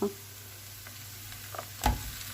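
Pre-fried minced lamb tipped into a pan of leek dish and stirred: a faint sizzle with a scrape at the start and a louder clatter of spoon on pan near the end, no voice.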